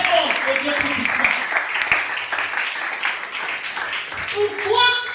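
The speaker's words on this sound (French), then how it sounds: "On acclame très fort au Dieu tout-puissant." A church congregation applauding and cheering for God during a French-language service, a sustained wash of clapping mixed with voices and calls that lasts several seconds.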